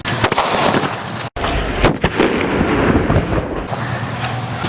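Loud cracks and bangs from Sivakasi Diwali firecrackers burst one after another with a brief gap of silence, a dense run of explosions heard up close.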